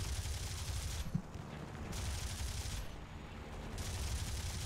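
Bursts of machine gun fire in the War Thunder video game, two long rattling volleys at steady volume with a short pause between them and no talking.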